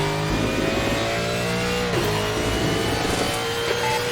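A Ford GT1 race car in a Mid-Ohio racing game sustains a loud, continuous engine drone, the revs rising and falling steadily with throttle changes across the whole stretch, with no voices over it.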